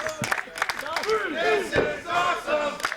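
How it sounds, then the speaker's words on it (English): A wrestling crowd cheers and roars in approval of a matchup, loud massed voices with rising and falling yells and whoops over a couple of seconds. "Crowd showing their approval for this matchup"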